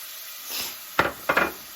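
Sweet onion sautéing in a pan, a faint sizzle followed by two close, crisp bursts of stirring and sizzling in quick succession.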